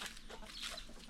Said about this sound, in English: Check out these chickens there, they're enjoying.